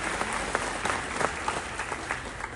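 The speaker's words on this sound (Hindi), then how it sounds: "जोरदार तालियां" Audience at the Chinar Book Festival in SKICC Srinagar applauds during a memento presentation, a short burst of dense, even hand clapping filling the hall.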